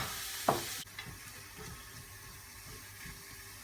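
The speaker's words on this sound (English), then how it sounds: "So you soften your onions," Onions softening in a pan for a fruity chicken curry give a soft, steady sizzle, with a brief louder burst of hissing early on that settles into a quieter, continuous fry with light stirring.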